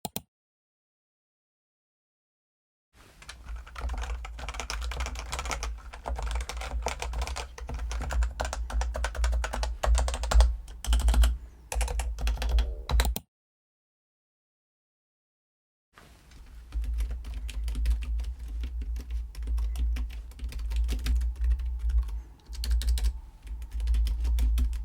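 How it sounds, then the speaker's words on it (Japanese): Typing on a Logicool K780 wireless pantograph keyboard, then on a capacitive keyboard: two runs of quick, fairly quiet key clicks, close up, separated by a few seconds of silence. "パンタグラフ式で打鍵音が静か。 使用してみたところ、打鍵音は静かな方だと思います。"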